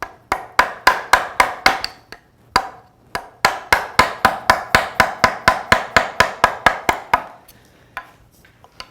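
Sharp, evenly spaced knocks of a chisel being struck into wood during Hawaiian wood carving ring out close and loud in two long rhythmic runs separated by a brief pause, with no talking.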